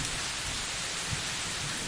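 Steady rain falls in a cartoon jungle, a dense, even hiss of drops at moderate level with a faint low rumble underneath, continuous and without voices.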